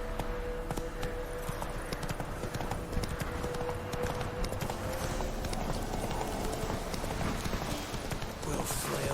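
Roach, the horse in The Witcher 3, gallops with rapid, continuous hoofbeats and a rhythmic clatter lasting throughout, loud and close amid a dense game soundscape.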